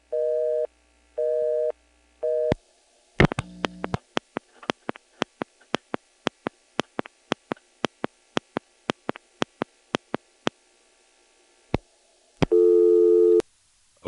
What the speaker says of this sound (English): I don't think the distinctive 1 EAX whine is on this busy signal as dialed from here.